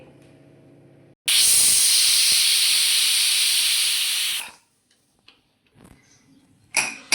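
A pressure cooker whistle: a loud, steady hiss of steam rushes out for about three seconds, then cuts off, followed by a few faint clicks and small knocks.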